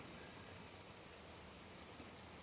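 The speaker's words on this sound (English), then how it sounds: "I can hear the rain falling" Steady rain falls outside, a dense, even patter that holds at a constant level from start to finish with no voices.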